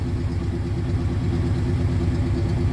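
A 1968 Oldsmobile 442 V8 idles after a cold start, a loud, close, steady low rumble with a rhythmic lope and no voices.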